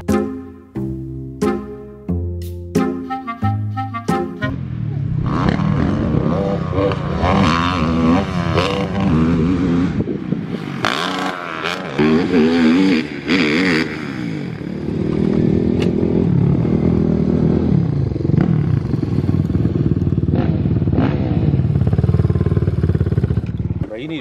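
A pit bike engine sputters with a few rough attempts, then revs loudly and repeatedly, close by, with people talking over it.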